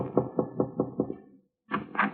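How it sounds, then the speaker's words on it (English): Five soft, evenly paced knocks on a door sound as a radio drama effect, followed by a brief pause and then a short burst of voice. "he was tapping gently at my door"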